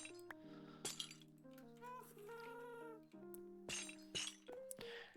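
Cats in a household meow a few times over a busy background of clinking, tinkling tones and sharp clattering hits.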